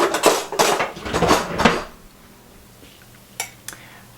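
A metal spoon clinks against dishes of sauerkraut and potatoes in a rapid cluster of close, bright taps, then a quiet pause, then two more isolated clinks.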